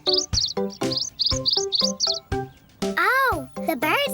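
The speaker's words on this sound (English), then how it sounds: "Oh, the birds can hear my horn." Cartoon birds chirp in quick, high, twittering bursts, repeating in rapid clusters close by, followed by squeaky warbling tones and some childlike voiced sounds.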